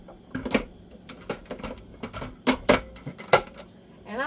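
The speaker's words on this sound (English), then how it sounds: "I'll go ahead and chop the red pepper" A knife chopping a red pepper, a series of irregular, crisp chopping knocks at close range with short pauses between them and no talking.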